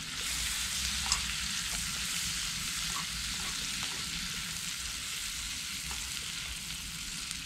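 Seasoned onions fry and sizzle steadily in a Petromax FT3 cast-iron Dutch oven, a continuous close hiss with faint stirring scrapes and no talking.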